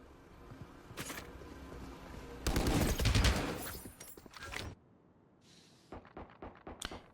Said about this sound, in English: Hear a lot of gunfights, or gunfire rather, over towards tiles.